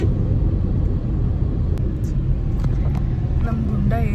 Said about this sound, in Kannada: ಫುಲ್ ಸೀರಿಯಸ್ ಆಗಿ ಗಾಡಿ ಓಡಿಸ್ತಾ ಇದ್ದಾರೆ.